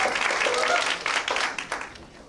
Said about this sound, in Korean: 우리 신준영 위원님, 우리 박수로 받겠습니다.